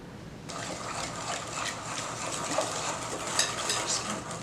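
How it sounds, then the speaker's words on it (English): Whisk beating eggs into melted butter in a bowl, a quick continuous scraping and sloshing rhythm, close and fairly soft, starting after a brief quiet moment. "Just really give it a nice whisk."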